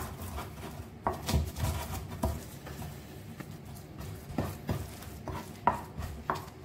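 Candlenut, ginger and garlic with salt and lemongrass being ground in a mortar with a pestle, giving close irregular pounding and scraping knocks, louder thuds near the start and end.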